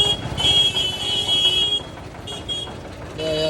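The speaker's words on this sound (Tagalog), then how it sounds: "they honk here a lot" Car horns blare through Indian street traffic during Holi, a long sustained honk followed by shorter toots from several vehicles, loud and near over a rumbling engine background.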